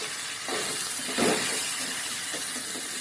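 Okra (vendakkai) sautéing in a pan for sambar makes a soft frying sizzle and hiss with a few stirring swells, steady and fairly quiet, no voices.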